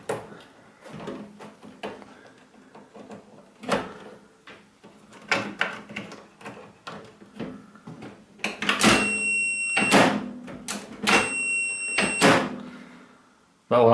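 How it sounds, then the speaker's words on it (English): A microwave oven door is opened and closed several times, and its three micro switches click sharply with each movement, close up, amid electronic beeps and some handling noise. "when you open the door, it should turn off. We check all three micro switches."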